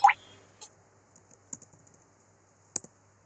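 A few scattered keystrokes tapped out on a computer keyboard while entering commands in a Linux terminal, quiet and close with gaps between clicks, opening with one sharper knock.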